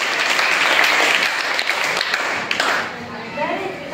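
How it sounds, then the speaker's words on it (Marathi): Schoolchildren clap together in a quick burst of applause during a school quiz, fading toward the end, with a voice briefly audible near the close. "रिचिकासाठी सगळ्यांनी टाळ्या वाजवा."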